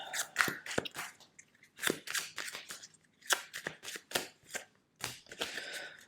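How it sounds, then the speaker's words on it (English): Tarot cards are shuffled and handled up close in repeated crisp riffles and slaps, sharp papery bursts separated by short pauses, with no talking. "Just let me get a few more cards out here"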